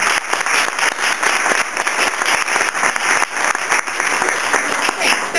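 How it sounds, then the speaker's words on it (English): Audience applause after a presenter's call at a conference event, loud, dense and steady clapping lasting the whole stretch with a few faint voices mixed in. "And give them a round of applause."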